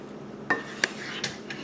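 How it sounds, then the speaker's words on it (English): A spoon knocks and scrapes against a bowl while spinach, mushroom and sausage quiche filling is stirred together, giving a few sharp, close clinks spaced unevenly over a quiet background. "And we're going to mix all of this together."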